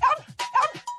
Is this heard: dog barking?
yes